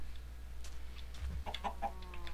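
Chickens clucking in the video game Minecraft, a few short clucks scattered over a low background hum, with a quick cluster of calls toward the end.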